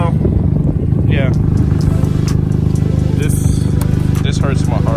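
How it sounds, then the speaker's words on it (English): A Volkswagen MK5 car with an exhaust leak idles close by, making a loud, steady engine drone with rapid puffing and ticking pulses throughout. "I know you can hear that I have an exhaust leak"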